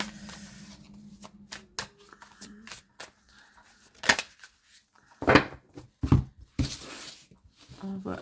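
Tarot cards being shuffled and handled, a run of crisp riffling bursts and flicks with brief pauses between, close and fairly quiet, no talk over them.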